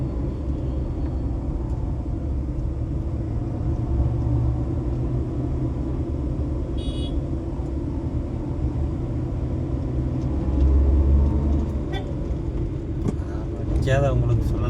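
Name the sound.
heavy road traffic on Coimbatore bypass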